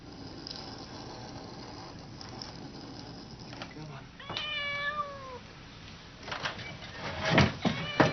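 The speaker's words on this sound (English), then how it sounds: "A well-practiced cat quickly recalls the actions that help it escape to its reward of food." A cat inside a Thorndike puzzle box meows a few times, a drawn-out call in the middle followed by louder, sharper cries near the end, over a faint background rattle and hiss.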